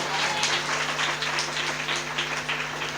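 A church congregation at a pastor's service claps hard together, a dense continuous patter of many hands that holds steady and loud over a low sustained musical tone.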